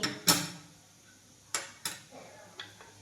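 Dhokla flour being mixed in a bowl: a sharp knock followed by several scattered clinks and scrapes of a spoon against the bowl, quiet and close.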